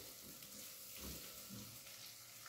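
Onions with tomato paste frying in a pan for an aloo baingan curry, giving a faint, steady sizzle with soft swelling bursts and no voices.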